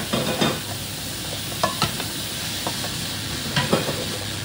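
Tomato, onion and garlic sautéing in a pan for a mung bean dish: a steady sizzle of frying with intermittent stirring scrapes and clinks of the utensil, close and moderately loud, no talking.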